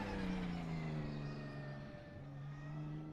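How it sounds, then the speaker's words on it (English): A high, steady straight-cut gearbox whine rides over a droning engine from a drift car at a drift championship, pitch sliding down then climbing again as the car accelerates, fairly distant and continuous. "A lot of gearbox noise, a lot of gear noise coming from that car."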